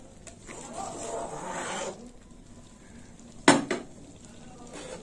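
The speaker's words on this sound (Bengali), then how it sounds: "দিয়ে দিলাম 1 চামচ ঘি, আর একটু নেড়ে চেড়ে নেব।" A spoon stirs prawn lentil dal in a pot just after a spoonful of ghee goes in, a soft scraping swirl followed by a sharp metallic clink against the rim, close and fairly quiet.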